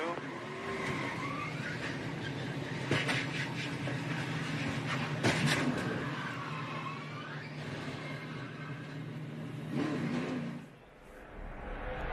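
Race cars at the 2014 Hollywood Casino 400 NASCAR event crash off turn two, a sustained roar of engines mixed with brief scraping and skidding bursts, steady and loud throughout with a dip near the end.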